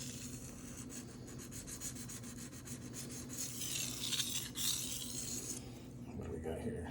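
A blade grinds on a Shapton Rockstar 500 sharpening stone, a close, continuous scraping rasp that gets brighter midway, with a voice murmuring faintly underneath.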